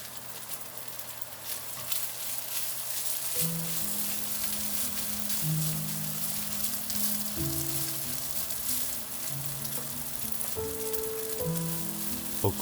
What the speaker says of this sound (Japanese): お米と具材が混ざり合うように炒めていく